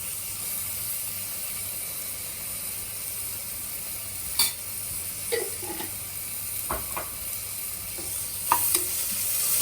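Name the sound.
ginger garlic paste frying with onions in a pan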